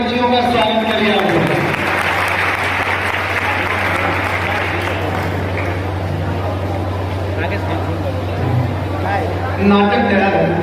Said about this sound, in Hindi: ताली बजा के बच्चियों का स्वागत करिए।